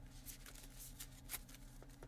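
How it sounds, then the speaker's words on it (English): Slay the Spire board game cards shuffled by hand, a faint series of soft papery riffles and flicks at a quiet tabletop with low background hum, no talking. "Shuffle my deck real quick."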